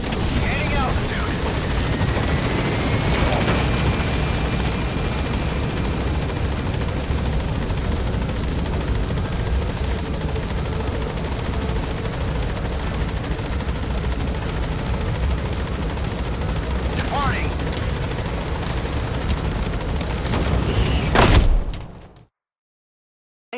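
Helicopter rotors and engine in the video game Metal Gear Solid V, a steady loud whirring drone climbing as it gains altitude, continuous for about twenty seconds with a few clunks before cutting off abruptly.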